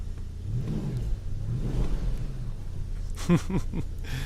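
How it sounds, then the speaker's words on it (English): A 2018 Porsche Panamera engine revs up and drops back several times, a deep throaty roar rising and falling, with brief sharp revs near the end. "maybe they want me to rev it a little bit"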